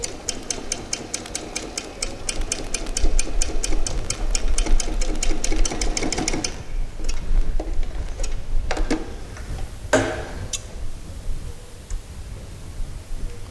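A sewing machine stitches fabric for a pair of shorts, running in a steady, rapid chatter up close, then slowing to a few scattered strokes and handling clicks after a pivot.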